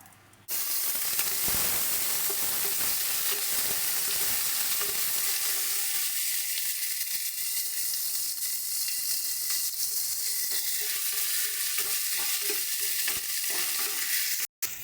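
Ginger paste frying with spices in a pan for moong dal, a loud dense sizzle that bursts in after a short pause and holds steady, with scraping stirs and clatter throughout, close up and without speech.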